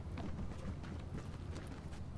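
Horse hooves clip-clop in the video game Tom Clancy's The Division, a fairly quiet, steady run of overlapping hoof strikes with no voices.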